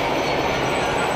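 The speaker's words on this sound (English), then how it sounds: "I bought a train to go around my Christmas tree" A model train circles a holiday display at an Oddfellows train show, giving a steady, continuous rolling rumble and light rail clatter throughout, fairly close with no talk.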